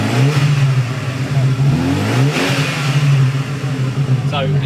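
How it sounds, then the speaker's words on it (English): An 18-year-old convertible car's engine revving up and easing off in repeated surges with a rising turbo whine, close and loud, as people talk nearby. "I think we're the only car that can make a turbo noise"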